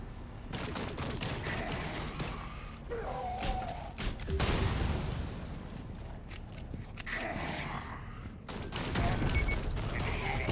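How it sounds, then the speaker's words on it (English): Dense rapid bursts of turret gunfire fill a tense firefight in the video game Rainbow Six Extraction, loud and nearly continuous, with scrapes and footsteps in between and some game chatter in the background. "I thought that was a turret shooting at me"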